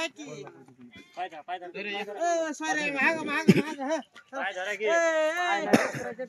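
Goats bleat in a series of wavering, drawn-out calls close by, with people talking over and between them.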